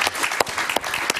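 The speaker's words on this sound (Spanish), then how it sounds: "Un aplauso para Tamara," Studio audience of a late-night talk show applauds as guest Tamara Adrián is welcomed, a short burst of dense clapping with a few sharper claps standing out.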